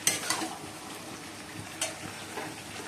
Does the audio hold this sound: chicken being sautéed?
yes